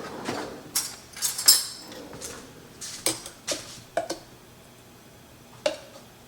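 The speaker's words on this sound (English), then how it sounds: "Alright, I'm going to spoon." A spoon scraping and clinking against a bowl or jar while dishing out onion top pesto, in a run of light, irregular taps and scrapes at close range.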